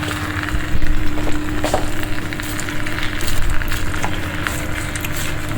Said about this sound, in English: Okay, time to get those prawns in next.